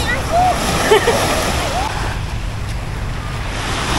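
Ocean waves wash up close at Paraiso Beach in Pinamalayan, Oriental Mindoro, with a constant broad rush, some splashing and wind noise on the mic.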